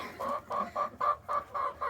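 Hens in a large winter coop holding about a hundred chickens cluck in a steady, evenly spaced run of six or seven close, clear calls.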